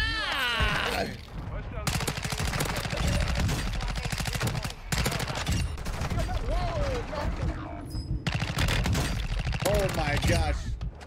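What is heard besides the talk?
Chimera SMG gunfire in video game Warzone 2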